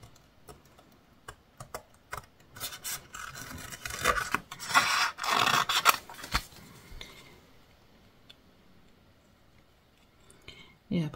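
Paper die cuts being cut out for a scrapbooking card, giving close, intermittent scraping and snipping sounds that grow busier in the middle, then fade to a few small handling noises.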